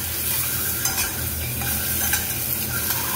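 Halved boiled eggs fry in hot oil in a pan, giving a dense, continuous sizzle close by with soft stirring clinks and scrapes throughout.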